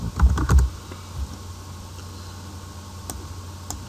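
Quick keyboard typing of data into an Excel sheet, a flurry of sharp clicky keystrokes at the start, then a few isolated taps over low steady background hiss.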